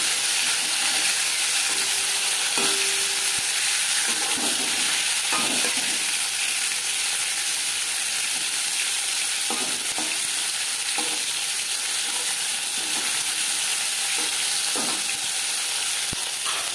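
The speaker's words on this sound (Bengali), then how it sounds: "মাছ ভাজা হয়ে গেছে, একটা পাত্রে উঠিয়ে নেব।" Lata fish frying in hot oil in a small kadai, a steady loud sizzle and hiss lasting throughout, with occasional scrapes and clinks as the pieces are stirred and turned.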